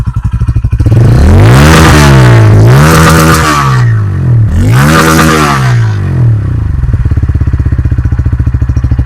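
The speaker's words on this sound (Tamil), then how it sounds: "ஸோ வண்டியோட எக்ஸாஸ்ட் சவுண்டு இப்போ மைக்கு கிட்ட வச்சு காட்டுறேன்" A Bajaj N160 motorcycle exhaust sits close to the microphone, idling with a rapid loud putter, then revved hard twice in rising and falling sweeps before settling back to a steady idle, with no talking.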